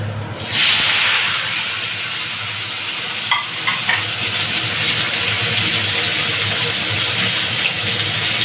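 Pointed gourds (kakrol) dropped into hot oil seasoned with dried red chilli and nigella seeds, bursting into a loud, sustained sizzle that settles into a steady frying hiss, with a few spatula knocks and no voices.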